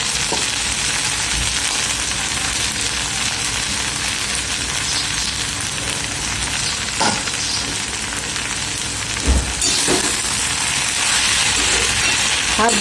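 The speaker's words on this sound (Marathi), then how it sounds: "शिजत आहे, अर्धी शिजली आहे." Vegetables cooking in a pan with crushed peanut powder sizzle steadily and loudly at close range, broken by a few scrapes and clinks of a spoon against the pan.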